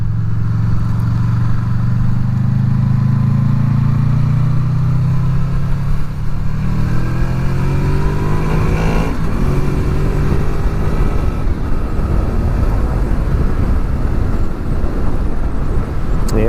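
A Honda VFR800 motorcycle rides along roads near Kirkstone Pass and Ullswater, its engine note droning steadily then rising as it accelerates, loud and close with heavy wind rush building in the second half.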